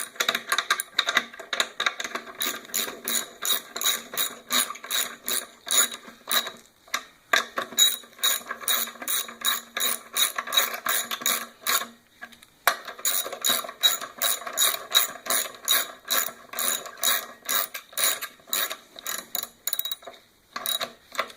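A ratchet wrench clicks steadily as bolts on an air compressor are tightened, a close, fast run of crisp clicks in repeated bursts with brief pauses and no talking.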